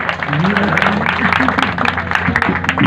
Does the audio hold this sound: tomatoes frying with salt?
no